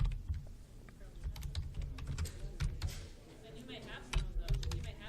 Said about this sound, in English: I'm going to simply just type in some information.